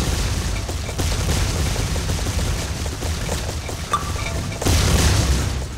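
Gunfire in the video game Ace of Spades: dense, loud volleys of shots with booming low thumps, rattling on almost without pause and swelling into a heavier burst near the end.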